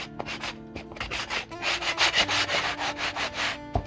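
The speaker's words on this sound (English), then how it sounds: "handy dandy sandpaper tool. Just, to make sure we don't have any little splinters or sharp edges there." A handheld Dollar Tree sandpaper tool rubs over wood to smooth splinters and sharp edges, giving about a dozen brisk, rhythmic scratching strokes close up with no talk.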